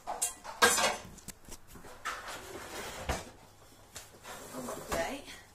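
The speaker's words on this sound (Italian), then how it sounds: "Prendiamo una pentola." A metal cooking pot clanks and scrapes as it is picked up and set down near a gas stove, a few sharp knocks with soft shuffling between.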